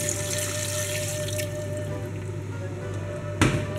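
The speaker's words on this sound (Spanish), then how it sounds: "ahora echamos el vino tinto" Red wine is poured into a pot of octopus in a steady, close liquid stream, with a brief splash near the end.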